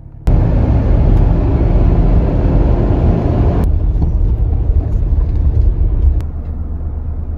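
A car drives along slowly while hunting for a parking spot, steady loud interior engine and road rumble that drops to a quieter idle hum after a few seconds.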